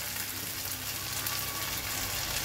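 Tomatoes hit a hot frying pan of aloo gobi sabzi (potato and cauliflower), giving a steady, close, even sizzle and hiss throughout with no talking.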